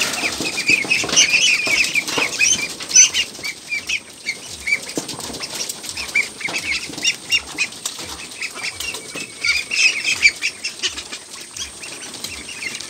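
Pekin ducklings splash and flap their wings in a small pool, with bursts of wing beats, splashing water and excited quacking and clucking, close and lively throughout.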